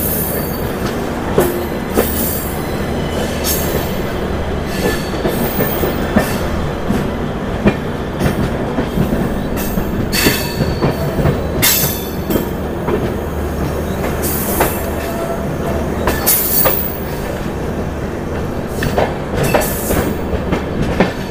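An Agartala Rajdhani Express train rolling into Guwahati Junction, a loud continuous rumble of wheels on rails with clickety-clack joints and occasional squealing, steady throughout with no talk.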